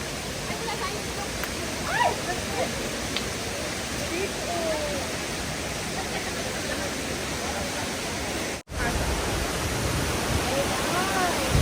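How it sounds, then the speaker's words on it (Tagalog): Inglis Falls, a waterfall on the Bruce Peninsula, heard as a steady, loud broadband rush of falling water that fills the whole stretch, with faint voices and small handling noises over it. "Wow! Ayun na ang falls!"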